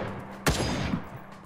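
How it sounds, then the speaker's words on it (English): A sniper rifle fires once in a survival video game, a sharp, loud crack that rings out and fades slowly into the game's background ambience. "Sniper rifle."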